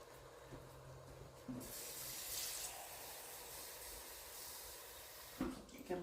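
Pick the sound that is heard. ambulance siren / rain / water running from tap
water running from tap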